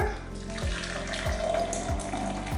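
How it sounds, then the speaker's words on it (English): Boiling water pours steadily into a big cup, a continuous close splashing and gurgling stream with a rising fill tone, alone without talk. "I just fill it up halfway with boiling water"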